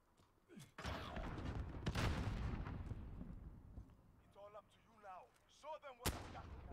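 A 2v2 gunfight in Call of Duty: Modern Warfare brings several heavy, booming gunshots with long decaying tails, a few seconds apart, while people talk in the gap between them.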